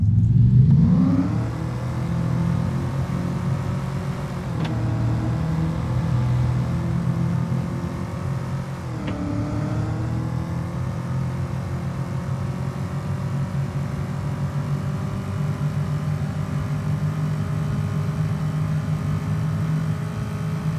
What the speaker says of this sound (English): Listen to this car from first person perspective.